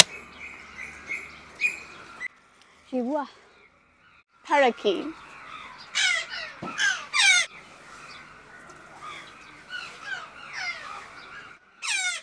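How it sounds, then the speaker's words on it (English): Loud, harsh squawks and raspy calls from red macaws burst out repeatedly, some overlapping, with quieter chatter and background noise between, at a zoo. "Oh, these are giant red macaws."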